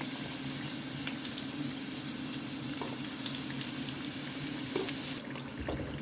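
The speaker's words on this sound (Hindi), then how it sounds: "मैं चार करके फ्राई करूँगी।" Meat samosas frying in hot oil, a steady close sizzle and bubbling that holds evenly throughout with a few small pops and clinks.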